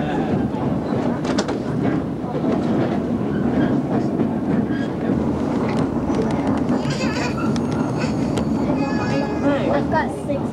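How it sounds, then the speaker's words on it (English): A train rolls past on a railway during an Alaska cruise excursion, a continuous loud rumble with clickety-clack and occasional squeals, with people talking over it. "acting as if it were on schedule, comes the train for your delectation"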